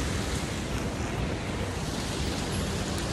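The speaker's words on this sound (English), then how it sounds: "And a nice waterfall" Water pours steadily off a roof like a small waterfall, a dense, unbroken broadband rush that stays even throughout, with no voices and no breaks.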